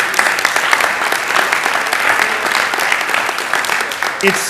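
Audience at a Youth In Government event bursting into sustained, loud applause, dense clapping throughout, with voices mixed in beneath.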